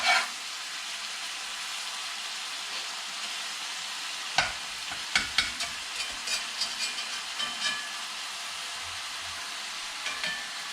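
Ground meat for chili browns in a pan, a steady soft sizzle with a few scattered sharp pops and crackles, moderately quiet and heard alone without talk.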